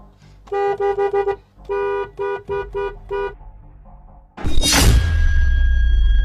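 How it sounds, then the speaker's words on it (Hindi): A car horn honks in a rapid series of short blasts, loud and close, followed by a sudden burst of clattering noise. "हॉर्न बजा।"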